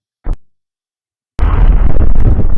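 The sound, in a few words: explosion sound effect in composited ship shot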